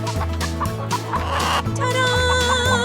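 A cartoon hen clucks in short repeated bursts over a bouncy, loud backing tune of a children's farm animal song.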